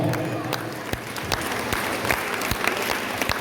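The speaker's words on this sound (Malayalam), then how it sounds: "ഒരു നല്ല കയ്യടി വിജയികൾക്ക് നൽകാം" An audience at a school awards ceremony claps for prize winners, a dense, steady burst of applause from many hands in a hall, with faint voices mixed in.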